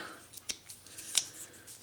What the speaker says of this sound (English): we got scissors that don't cut anything besides really cardboard, probably paper, and tape